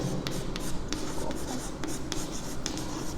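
Handwriting during a maths lesson on mathematical logic and tautologies: steady, close scratching strokes with short pauses between marks, and no voices.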